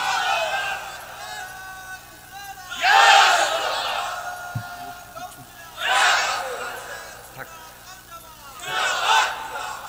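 A large crowd at a religious urs mahfil gathering roars takbir in loud unison, three surging bursts spaced a few seconds apart, each swelling and fading back into murmuring hall noise.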